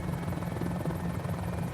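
Magnum chopper helicopter flying in a video game, a steady droning rotor buzz with a low hum, constant and close throughout with no talk.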